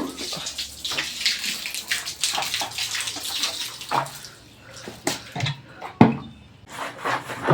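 Tap water runs into a container for cooking in a home kitchen, a splashing, gurgling stream broken by clunks and rubbing noises as it is handled, close by with no speech.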